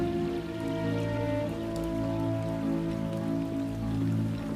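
Steady rain falls in a continuous, even hiss of drops pattering on surfaces, with no voices, holding at a soft, unchanging level throughout.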